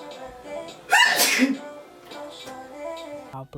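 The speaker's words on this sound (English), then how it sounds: "I had to put this in there because I'd be sneezing" A single loud, sharp sneeze bursts out mid-way through a makeup tutorial, preceded by a short breathy intake and followed by quieter voiced murmuring nearby.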